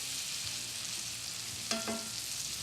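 Food frying in a pan for a Chinese dumplings cooking segment: a steady, loud hiss of sizzling oil fills the clip, with a few brief clinks of utensils near the end and no talking.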